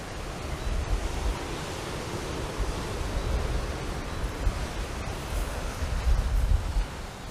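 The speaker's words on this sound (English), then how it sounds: "listen to the sounds of this powerful surf hitting these rocks" Powerful surf crashes against rocks below sea cliffs on an island coast, a continuous roaring wash with deeper surges swelling near the end, steady and loud with no voices.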